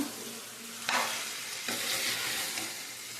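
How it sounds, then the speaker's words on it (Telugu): Masala with chili powder and salt frying in oil for a chicken and potato curry, a steady sizzle with two sharper scraping stirs of the pan, no talking. "మసాలా వేగిపోయింది, దాంతోపాటు తర్వాత కారం, ఉప్పు అన్నీ కూడా బాగా చక్కగా అయితే వేగినాయండి నూనెలో"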